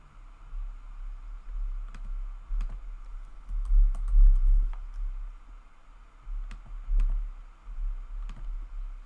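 Keys on a computer keyboard are typed in short, irregular bursts of soft, close clicks and taps, with brief pauses between groups, over a quiet background with no talking.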